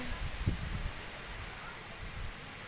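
Steady afternoon wind after a typhoon blows across the microphone with low rumbling gusts and a constant hiss, and a voice murmurs faintly underneath.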